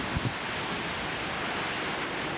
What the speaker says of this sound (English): It's just really windy and cold.